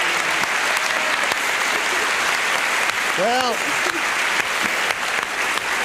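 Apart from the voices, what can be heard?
studio audience applause on a TV game show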